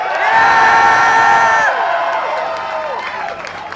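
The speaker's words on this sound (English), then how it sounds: "Once again, a big cheer for our speakers!" Loud cheering and whooping erupts from a Belfast rally crowd opposing the Conscience Clause Bill for its speakers, peaking early then tapering into scattered shouts and calls.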